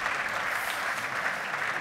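Steady audience applause at a German housing-industry conference panel on residential space, dense and even throughout with no speech over it.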